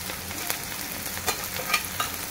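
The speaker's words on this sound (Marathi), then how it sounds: "ह्याच्यामध्ये मी आलं लसूणची पेस्ट टाकते आणि थोडंसं असं ढवळून घेते" Ginger garlic paste and ground spices fry in a pan while being stirred, a steady close sizzle broken by several sharp scrapes of the spoon, no voices.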